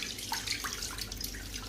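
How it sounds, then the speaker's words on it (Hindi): Half a litre of milk poured into a pressure cooker, a continuous trickling splash that runs steadily for the whole stretch at a moderate level, with no voices. "इसके अंदर शामिल कर देंगे हाफ लीटर दूध।"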